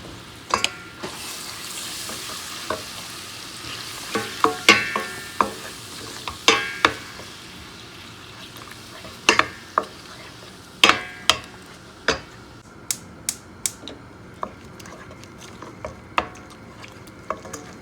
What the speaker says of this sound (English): I'm frying my tomato sauce. This is tomato puree.